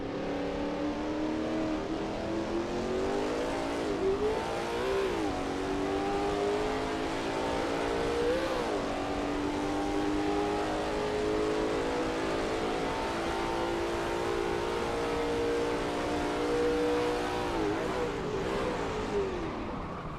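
A Lola T70 MkII Spyder race car engine in a racing video game roars steadily at high revs around Riverside, its pitch dipping and climbing through gear shifts, loud and continuous throughout.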